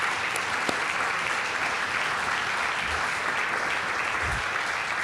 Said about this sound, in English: let's have one more round of applause for our